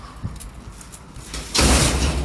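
A door slams shut hard and loud after a stretch of faint rustling and small knocks, the heavy impact ringing on briefly.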